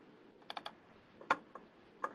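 A few faint computer clicks during an online webinar: soft, sparse taps with two or three sharper ones, heard close and alone against a quiet background.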